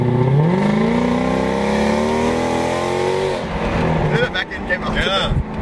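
Loud Mercedes-Benz CLK63 AMG V8 engine revving hard with rising, sweeping pitch, then dropping back to a rumbling lower drone while people talk over it.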